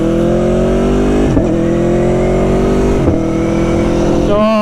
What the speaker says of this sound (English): I can't really tell you how good the sound of this bike is